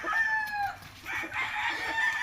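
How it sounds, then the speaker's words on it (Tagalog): Chickens cluck and a rooster crows on a small farm, the calls close and clear, overlapping in brief bursts with a short lull in the middle. "Eh mga manok dyan."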